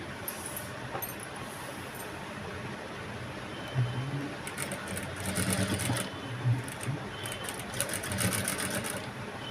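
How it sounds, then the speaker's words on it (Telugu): A sewing machine stitching piping onto a blouse with potli buttons runs with a steady, fast mechanical whir, close by, with slightly louder bursts of stitching partway through. "ఇట్లా ఉల్టా సీజన్లో పెట్టుకోవాలి తిరగపాటు వైపు ఇట్లా పెట్టుకొని స్టిచ్చింగ్ చేయాలి"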